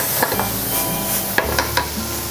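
Chili peppers drop into a hot pan already sizzling with meat and tomato for a red-sauce shell pasta, giving a steady close frying hiss with a few sharp stirring clicks and spatters.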